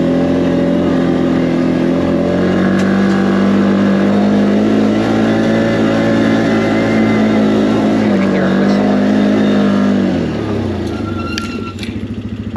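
Can-Am Outlander 450 ATV engine running steadily on a wooded trail, a loud continuous drone that shifts pitch as the throttle changes, then drops and sputters near the end.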